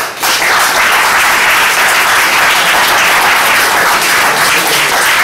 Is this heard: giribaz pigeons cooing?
no